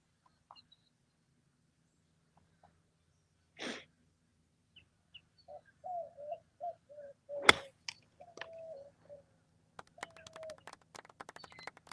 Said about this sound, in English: You heard that quail chirping in your backswing.